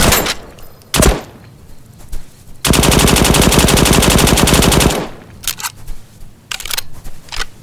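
A submachine gun in the World War II shooter game Warfare 1944 fires a loud, sustained burst of rapid automatic shots lasting over two seconds, with single shots and clatter before and after.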